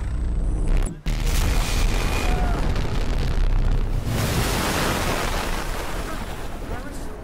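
EMP blast in the video game Battlefield 4, set in Shanghai: a dense, roaring explosive rumble that fills the whole clip, briefly dipping about a second in, then surging on loudly and slowly fading.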